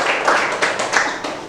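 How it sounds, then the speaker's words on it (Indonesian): A classroom group applauds presentation group 4, with dense, steady clapping running close and loud through the whole short moment, and no voices standing out above it. "kita kasih tepuk tangan kepada kelompok 4"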